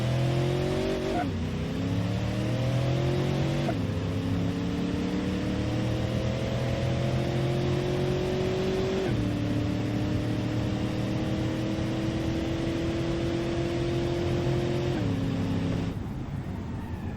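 Car engine in BeamNG.Drive held at full throttle, climbing through several gear changes with steady revving harmonics that drop and rise again at each shift, loud and continuous with no talk.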